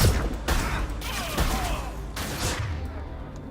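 Bursts of automatic gunfire from a firefight in the video game Mass Effect 2, several loud rattling volleys spaced across a few seconds, with sharp impacts and a rumbling low end.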